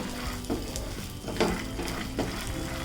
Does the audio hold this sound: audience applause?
no